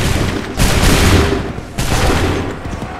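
Soldiers fire a musket volley in the video game Assassin's Creed 3, a loud, dense battlefield roar with overlapping shots and booms that swells twice across the moment, with no clear voices.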